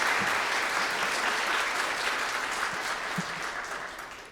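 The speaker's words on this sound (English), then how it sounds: "Can we have another round of applause for that gorgeous film?" An audience at a talk on music video as Black art applauds after a film screening, a full wash of clapping that gradually tapers off over a few seconds.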